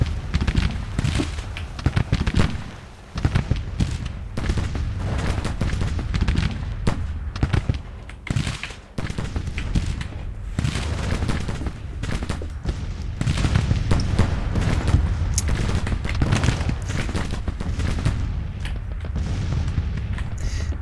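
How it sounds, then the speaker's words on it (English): Grand Tactician Civil War battle with an artillery duel and musket volleys: dense, continuous gunfire and booming cannon shots roll on without pause, loud and layered at near and far distances. "Seems to be more of an artillery duel right now."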